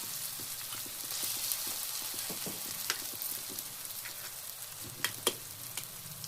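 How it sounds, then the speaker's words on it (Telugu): Eggs, five of them, frying in a home-kitchen pan, giving a steady crackling sizzle throughout with a few sharper pops and spatters near the end. "ఇప్పుడు ఇందులో ఎగ్స్ అయితే వేస్తున్నాను."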